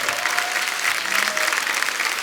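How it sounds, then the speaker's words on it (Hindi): Studio audience at a comedy talk show breaking into loud, dense applause, a steady wash of clapping throughout, with a voice faintly over it. "जोरदार तालियां"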